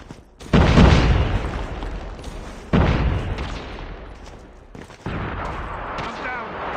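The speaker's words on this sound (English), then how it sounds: "Grenade out! Grenade out! Frag out!" Three heavy frag grenade blasts with gunfire in a video game: each sharp, loud boom hits at a separate moment and trails off in a long rumbling decay, with bursts of shooting layered in.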